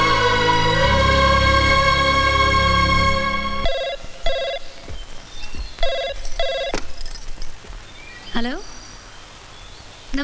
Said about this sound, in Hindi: पंडित जी का फोन है दिल्ली से।